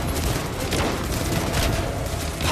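Energy weapon fire from the Iron Man suit in Marvel's Iron Man VR, a dense, continuous rattle of blasts and impacts filling the scene loudly, with no talk.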